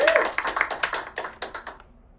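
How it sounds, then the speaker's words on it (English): Stock clapping effect from the Scratch sound library, a quick run of crisp, close hand claps in an uneven rhythm that thins out and stops near the end. "at the end, there can be a clapping noise"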